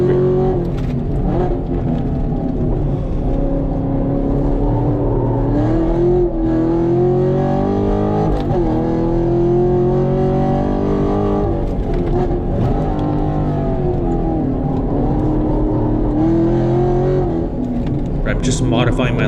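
Modified Camaro SS1LE V8 lapping a race track from the cabin, loud close engine rising and falling through revs and downshifts with throttle blips, continuous over nineteen seconds.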